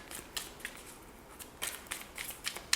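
A deck of tarot-style cards being shuffled: repeated crisp riffling and snapping bursts in an uneven rhythm, close and fairly quiet, with no talking.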